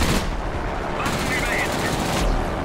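Warplane guns firing in World of Warplanes, a dense continuous burst of rapid gunfire that holds steady and loud for the whole stretch with no pauses.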